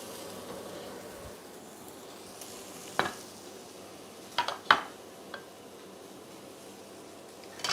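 Lentils seasoned with vegetables sizzle softly in a pan while a utensil stirs, with a faint continuous fry broken by a few clicks and scrapes against the pan.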